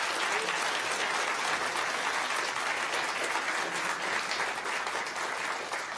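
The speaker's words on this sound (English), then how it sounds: "I'd ask those people to also sort of stand up and receive a round of applause along with me" Sustained applause from the audience at a live public talk on space robotics, a dense, even wash of many hands clapping that holds steady throughout without words.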